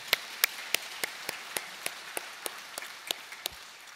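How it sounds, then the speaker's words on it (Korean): A church congregation claps together in steady, evenly spaced beats, about three per second, quiet and somewhat distant, with no talking over it. "우리 감사의 영광의 박수 올려드립시다"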